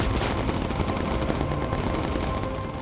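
Dense, continuous machine-gun fire from bomber gunners in the game Bomber Crew, loud and steady rattling bursts filling the whole stretch with little pause.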